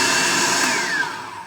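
Chickpea hummus whirring in a blender, a loud, close motor roar whose pitch sweeps downward as it slows over a second and a half, no talk.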